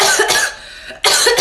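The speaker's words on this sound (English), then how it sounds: "You're gonna cough." A person coughs twice harshly and up close during a sneeze challenge, two loud bursts separated by a short pause.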